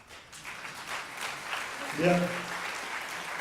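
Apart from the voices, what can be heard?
audience applause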